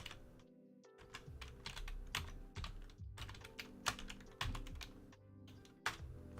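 Rapid computer keyboard typing clatters up close, with dense bursts of keystrokes broken by short pauses and a few sharper key hits.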